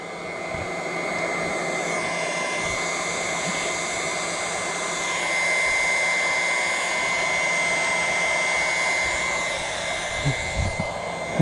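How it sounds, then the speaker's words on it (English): A pressure washer runs steadily at a campsite with no running water, fed by a pump drawing from a water bin, giving a constant loud motor whine and hiss that rises slightly midway, with a few knocks near the end. "So now we got the pump to the bin. We got the pressure washer."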